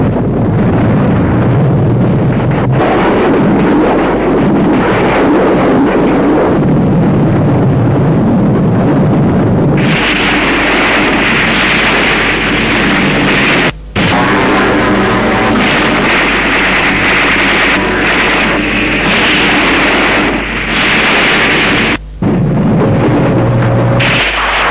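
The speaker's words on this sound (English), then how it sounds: "But the mercenaries came under endless artillery and aerial bombardment." Artillery and aerial bombardment in Biafran War newsreel footage, a loud continuous roar of blasts and rumble with heavy wind-buffeted noise, brief dropouts near the middle and end, and no speech.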